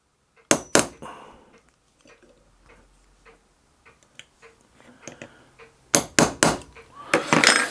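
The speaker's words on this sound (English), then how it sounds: "using the transfer punch, transfer the other holes" A hammer gives a few sharp metallic taps on a transfer punch against metal, in quick clusters at the start and end, separated by quieter shuffling and handling noises.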